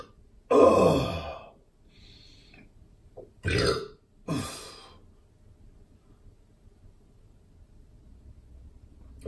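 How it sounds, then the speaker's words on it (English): A man burps after drinking Huel: one long, loud, drawn-out belch up close, then two shorter burps a few seconds apart, with soft breathing in between. "I'm guessing the burping is not so much because of the Huel as it is because of the huge quantities of liquid that I've been drinking"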